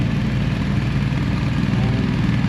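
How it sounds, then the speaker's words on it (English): Three motorcycles, a BMW GSA, a Triumph Bobber and a Harley, idle together outdoors in 22-degree cold, a steady low rumbling drone that stays even and close throughout with no voices. "we're going to leave the bikes run"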